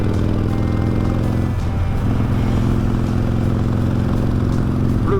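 Harley-Davidson motorcycle with a stage 1 engine tune and Bassani exhaust idling loudly up close, a deep continuous throbbing rumble with a brief dip and blip near the middle and no talking.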